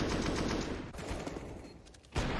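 Rapid gunfire during a Counter-Strike esports match between Liquid and Rugratz, a dense stream of quick shots that drops back briefly before another loud burst near the end.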